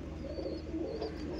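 Imported Teddy pigeons in a self-built loft coo softly, a quiet low murmur of several birds blending together, with faint chirps and no talking.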